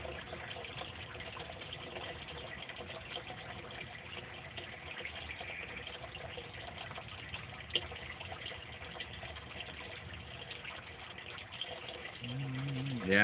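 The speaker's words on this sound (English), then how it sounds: "There's a steady or a nice strong flow of water there." Water pours steadily through an aquaponic siphon draining a tank, a faint, continuous gushing trickle with a brief bump near the end and no talk.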